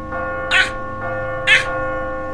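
A heavy bell-tower bell in The Walking Dead video game strikes twice about a second apart, each loud clang leaving a long, humming ring that sustains between hits.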